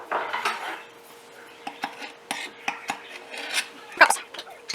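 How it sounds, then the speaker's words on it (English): A flat metal scoop clinks and scrapes against a measuring cup as flour is spooned and levelled for a homemade pie crust, close and loud, in short irregular taps and rasps, with quiet speech now and then. "we are going to make sure we spoon this and level this"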